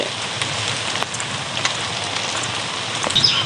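Steady rain patters on a surface, dense and even, with a few louder drops standing out.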